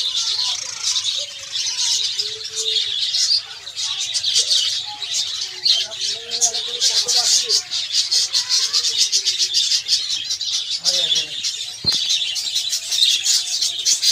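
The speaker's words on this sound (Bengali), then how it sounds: "সব ফুড খেতে প্রত্যেক জাবা পাখি নেমে গেছে" Java sparrows and prince birds feeding, giving a dense, continuous chorus of high chirps and tweets close by, with no talking.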